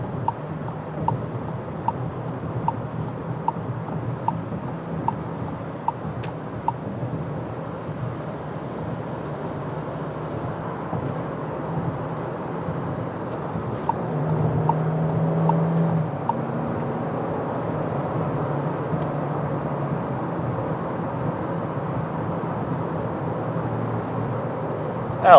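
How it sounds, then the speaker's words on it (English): Steady engine hum and road noise from a small turbocharged Volkswagen cruising behind traffic, a low continuous rumble with faint ticking throughout and a slight swell near the middle. "There's a little bit of road noise, but it's only that."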